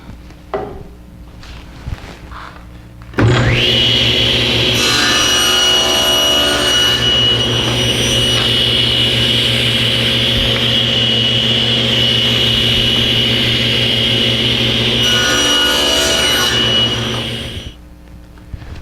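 A power saw cuts wooden side pieces to length for a chime cover. A loud, steady whine starts abruptly, holds for about fourteen seconds and then winds down, with no talking.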